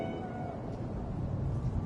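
A cat meows in the video game Cyberpunk 2077, a brief close call set over a steady low rumble of background ambience, with no talking.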